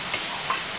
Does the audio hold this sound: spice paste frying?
yes